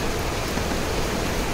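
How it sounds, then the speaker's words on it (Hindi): Steady broadband rain pours continuously during a monsoon-season downpour in Belgaum, India, a dense even hiss with no pauses or voices over it. "और बारिश भी चालू है"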